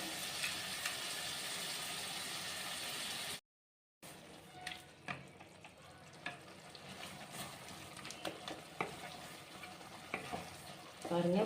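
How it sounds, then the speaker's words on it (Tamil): Tomatoes softening in a hot pan with coarse salt for a Chettinad fish curry, a steady sizzle with occasional stirring scrapes and clinks, cut by a brief silent gap, fairly quiet and close. "தக்காளி எப்படி வதங்கி வருதுன்னு பார்த்தீங்களா"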